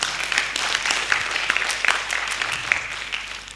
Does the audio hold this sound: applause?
yes